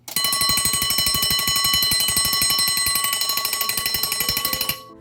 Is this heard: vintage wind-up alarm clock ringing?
yes